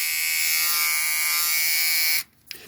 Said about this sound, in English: this Remington Omniblade HG5000 is one of the most loud trimmers in my collection